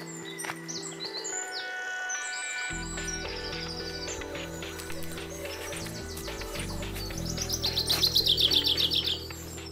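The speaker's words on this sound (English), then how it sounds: "Can you hear the birds?" Birds chirp and tweet in quick, bright bursts at a windless campsite on the Somerset Levels, England, over a quiet outdoor backdrop, growing into a louder rapid trill near the end.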